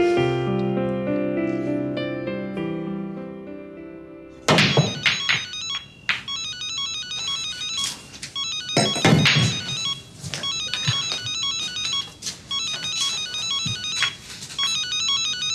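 A mobile phone ringtone plays a melodic electronic tune, loud and close, repeating steadily with some clattering movement sounds mixed in partway through.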